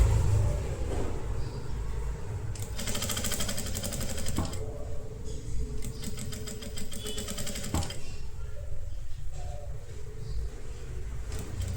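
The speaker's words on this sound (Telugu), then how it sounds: "ఇప్పుడు ఇలా పెట్టి దీనిపైననే కుట్టేసుకోండి." Sewing machine stitching an A-line kurti during a cutting and stitching class, with two bursts of rapid, loud stitching separated by quieter pauses and brief handling knocks, no talking.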